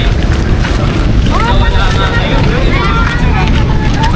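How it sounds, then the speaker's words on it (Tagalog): A boat's engine drones steadily under loud wind and water noise off Coron, with chirpy voices faintly audible in the background. "Tignan mo, iwanan tayo ng bangka."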